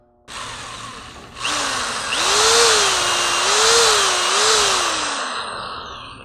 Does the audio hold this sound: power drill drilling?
yes